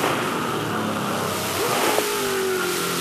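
A 2005 Supercars Championship race car at Oran Park roars steadily at high revs, its engine note dipping and rising as it changes down into second gear, loud and continuous throughout.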